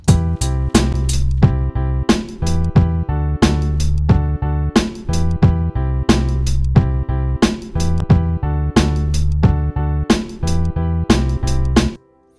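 A steady hip hop drum groove with punchy kicks and snares over a bass line, no hi-hat ticking, looping evenly for about twelve seconds before stopping.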